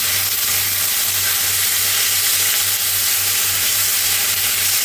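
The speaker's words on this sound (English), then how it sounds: "I'm using the flat edge scraper here to scrape it. That way we're not burning anything on the bottom." Chicken fajita peppers sizzle steadily in a hot pan, a dense, even frying hiss throughout with a faint low hum beneath, while a flat edge scraper works the bottom of the pan.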